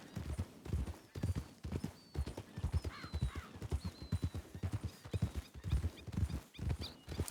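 Horse in the video game Red Dead Redemption 2 trotting with steady clip-clop hoofbeats and letting out a whinny partway through, fairly quiet and nearly alone with little talk.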